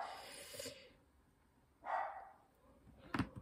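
A dog barks a couple of times in a quiet indoor room, with short, faint, separated bursts and no talking.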